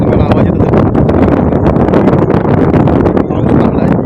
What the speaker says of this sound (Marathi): माझ्या या साईडने वारा भरपूर येतो, तुम्हाला आवाज येतो.